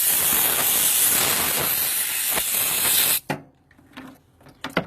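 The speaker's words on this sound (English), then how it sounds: "We're just going to blow them out" Shop compressed air regulated to 60 psi blasts through cleaned wheel bearings from a Ford E150 in a loud, steady close hiss, then cuts off abruptly, leaving faint handling clatter.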